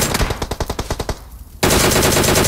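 An enemy sprays automatic gunfire in the mobile battle royale game PUBG Mobile. A rapid burst of loud, close shots fades to a short lull, then another dense, sustained volley cuts in abruptly.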